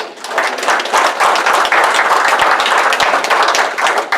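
Audience applause for a presenter at a talk: dense, steady clapping from many hands that fills the room evenly for several seconds.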